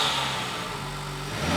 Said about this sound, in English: when you actually stab it a little bit, that's a lot of turbo noise.